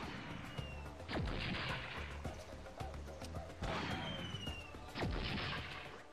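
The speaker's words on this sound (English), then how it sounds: "Now with the help of the cannon we can break open the 2 strong chests." A cannon fires three times in Spyro A Hero's Tail, in the Crocovile Swamp level. Each shot is a sharp, crashing blast that booms out over constant game music and swamp ambience.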